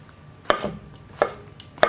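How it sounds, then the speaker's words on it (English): A knife roughly chopping mushrooms on a cutting board, three crisp, evenly spaced knocks, close and clear with no talk. "now I'm going to prep my mushrooms"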